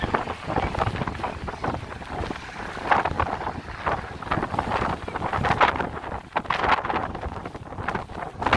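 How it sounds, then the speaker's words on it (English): Strong, gusty wind in a snowstorm in downtown Chicago buffets the microphone with a constant roaring rumble that surges and eases, loud and close throughout with no voices. "And it's very windy right?"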